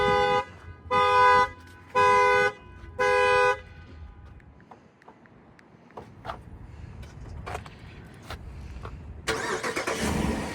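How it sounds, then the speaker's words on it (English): A Dodge Durango fitted with a factory alarm upgrade and remote start chirps its horn four times in steady succession, then after a few quiet clicks the engine cranks and catches loudly near the end. "See, remote start."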